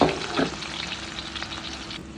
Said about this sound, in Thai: ทอดพริกลงไปเลยนะคะ